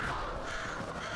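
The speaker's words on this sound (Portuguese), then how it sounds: "Ai, o corvo." A crow caws in the video game Alan Wake 2, faint and set within a steady wash of ambient noise.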